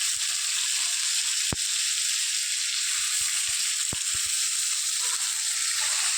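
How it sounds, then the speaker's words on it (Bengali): Small onion and crushed garlic fry in hot oil, a steady close bright sizzle throughout with a few soft clicks and knocks of utensils. "আমি এখানে একটা ছোটো সাইজের পেঁয়াজ দিয়ে দিয়েছি তেলের মধ্যে, আর একটুখানি রসুন থেতো করা ছিল সেটাও দিয়ে দিলাম"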